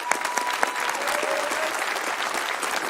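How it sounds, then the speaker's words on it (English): A graduation audience breaks into sustained applause, dense steady clapping from many hands that stays loud and even throughout, with no talk over it. "Please give yourself a round of applause."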